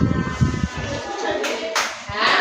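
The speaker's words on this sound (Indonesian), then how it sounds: "beri tepuk tangan untuk masing-masing kelompok" Children in a primary classroom applaud the groups, a brief burst of clapping that starts near and dense, then thins into a few scattered claps with faint voices underneath.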